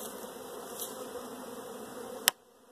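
Honey bees buzz steadily around an empty hive frame during a spring brood nest inspection, a close, continuous insect drone alone that ends abruptly with a sharp knock of the frame.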